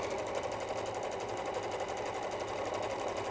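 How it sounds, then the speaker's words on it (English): A sewing machine stitching down a quilt seam runs steadily and close, its fast even needle chatter continuing without a break at a moderate level. "This way we'll just sew right down."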